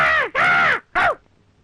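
A crow caws twice in close succession, loud and near, harsh rasping calls with a short gap between them, then quiet.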